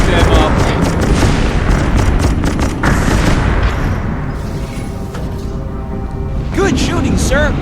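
Dense, loud booms and rumbling naval gunfire with explosions from the Xbox 360 game Naval Assault: The Killing Tide fill the whole stretch, with a radio-style voice speaking over the battle noise.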